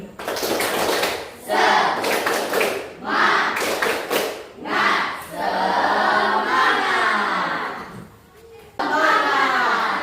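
A group clapping in rhythmic bursts, several rounds of fast claps separated by short pauses, with children's voices mixed in, in a classroom clapping chant.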